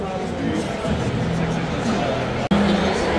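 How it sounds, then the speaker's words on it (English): Steady hubbub of a large audience settling into Bridgestone Arena in Nashville ahead of a Phish show, indistinct overlapping chatter at a moderate distance with one abrupt brief dropout. "Crowd is filling in."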